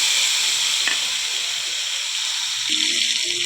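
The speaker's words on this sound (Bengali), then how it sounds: "আর টমেটো একটা, আর কাঁচা লঙ্কা, আদা বাটা দিয়ে দিলাম।" Spices, tomato, green chili and ginger paste frying in hot oil, with a loud, continuous hissing sizzle and steam throughout and a brief stir near the end.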